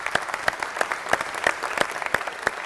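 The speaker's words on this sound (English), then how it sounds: "Let's give them a big round of applause." Enthusiastic applause from an audience at a city council meeting, greeting a newly certified neighborhood council, with dense rapid clapping that holds steady for the whole stretch.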